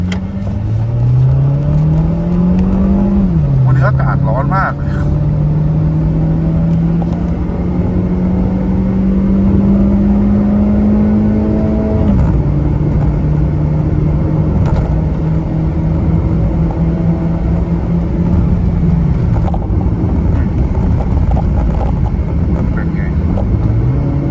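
A Honda City GM2 on stock 15-inch wheels with a factory exhaust, tuned for E20 fuel, drives with a steady engine drone that rises under acceleration, drops at each gear change and climbs again. Someone talks over it.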